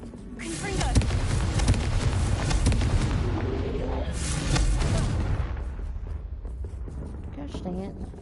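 A Confringo fire spell explodes in the Hogwarts Legacy video game: a loud, rumbling blast sustained for several seconds with a second surge midway, then it fades, and a voice speaks briefly near the end.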